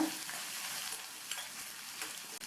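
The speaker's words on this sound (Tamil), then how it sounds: "சேர்த்துருக்கிற வெங்காயம், பூண்டு, மிளகாய் எல்லாம் ஓரளவு நல்லா வதங்கி வரட்டும்." Onion, garlic and green chili sautéing in a pan for mint chutney, a steady, soft sizzle with faint stirring scrapes and no talk.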